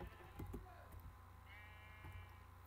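Sheep bleating in the Minecraft video game, a few short game-sound bleats over a steady background hum, with no talking.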